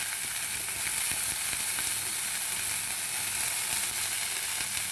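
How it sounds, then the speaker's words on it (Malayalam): Steamed carrot and broccoli sizzle steadily in a pan of hot ghee, a close, even hiss with faint stirring clicks and no talk. "ഇതിലേക്ക് നമ്മൾ സ്റ്റീം ചെയ്ത് വെച്ചിരിക്കുന്ന ക്യാരറ്റും ബ്രോക്കോളിയും ഞാൻ അങ്ങ് ഇട്ട് കൊടുക്കുകയാണ്"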